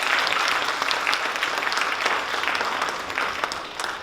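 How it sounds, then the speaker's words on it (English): Audience at a Hindu and Jain temple cultural program in Las Vegas applauds teenage performers, with steady, full clapping from a roomful of people that tapers slightly near the end. "So please, one more round of applause"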